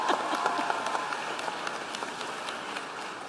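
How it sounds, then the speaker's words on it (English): An audience at a political speech applauds in a sustained patter of many hands, moderately loud and slightly distant, with no voices heard over it. "yes, you may clap."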